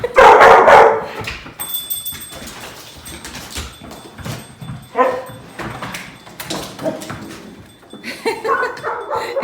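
A happy pet dog barks and yips loudly up close, with excited whimpers and a sliding door in the mix, then a few scattered barks continue amid household noise.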